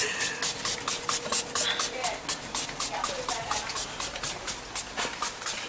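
Rapid, repeated bursts of aerosol body spray hiss in quick succession, close up, with a faint rustle in the background.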